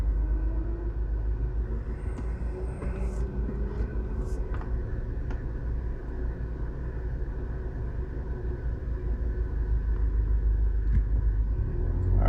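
A car drives along a three-lane road into the Halfway Tree area of Kingston, Jamaica, its low engine and road rumble steady from inside the cabin, with faint occasional traffic sounds and a little background voice.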